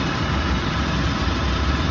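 A 2010 Toyota 4Runner engine idles in park, a steady, loud, broadband rumble that is close and unchanging throughout, with no speech.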